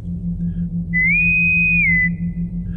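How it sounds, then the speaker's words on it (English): A single clean electronic whistle from a Star Trek communicator, a steady tone held for about a second over a low constant hum. "The communicator whistled."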